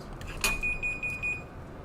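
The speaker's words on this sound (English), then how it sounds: "Something just started beeping." A standing desk gives a single faint electronic beep, a short high tone that rings on briefly in a quiet room.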